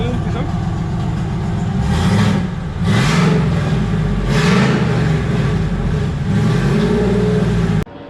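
A Chevrolet Silverado Z71 with a custom stainless steel exhaust and Borla Atak muffler, parked indoors, revs in several loud rising pulls over a steady rumbling idle, with voices talking between the pulls.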